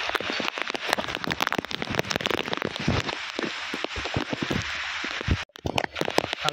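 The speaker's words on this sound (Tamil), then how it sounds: "நல்ல மழை பெய்யுது" Heavy rain pours down at Dudhsagar Falls, a dense, loud hiss of drops pattering close on surfaces, with sharp crackling hits and a brief drop-out near the end.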